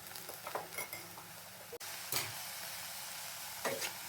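Tender tamarind leaves fry in a little cold-pressed oil in a pan, a soft, faint sizzle with light spoon taps and stirring scrapes.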